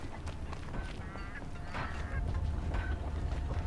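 Turkey-like fowl in the Horizon Zero Dawn video game giving a few warbling gobbles and honking calls over a constant low ambient rumble.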